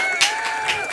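Short applause sound effect played on a horror comedy podcast, a thin burst of clapping and crowd noise with a couple of sharper peaks, lasting about a second.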